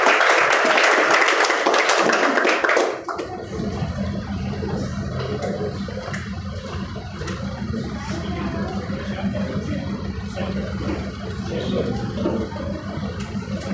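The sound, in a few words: loud applause welcoming a speaker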